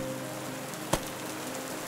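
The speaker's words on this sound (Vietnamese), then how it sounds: "Đường rừng đã tối, trời lại mưa to" Steady heavy rain pours down through a dark forest at night, a dense even hiss of drops with one brief sharper knock partway through.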